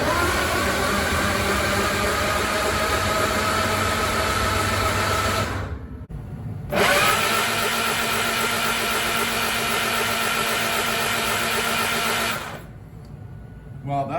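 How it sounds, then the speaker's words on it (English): An MG TF car engine cranks over with a steady mechanical whirring, stops briefly, cranks again for several seconds, then cuts out; close and loud. "let's crank it over and see if we get any oil pressure"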